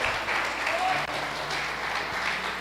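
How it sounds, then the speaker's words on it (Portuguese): A church congregation applauds in a dense, steady wash of clapping, moderately loud and continuous through the short stretch, with faint voices mixed in. "Vamos aplaudir o Senhor"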